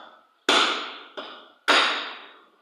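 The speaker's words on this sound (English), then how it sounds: "I place it on top of the pin that I want to remove, and the hammer, and then hammer this one out." A hammer strikes a pin to drive it out of a motorized bicycle crankshaft, giving three sharp metallic blows, loud and close, each ringing briefly before it fades, with no voices.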